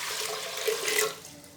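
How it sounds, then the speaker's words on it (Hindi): Water, about a litre, poured into a pressure cooker set on a stove while making ojri (tripe curry); a steady close splashing pour for under two seconds, with no talk. "और अब हम इसमें शामिल करेंगे जी पानी। पानी जाएगा तकरीबन इसमें 1 लीटर।"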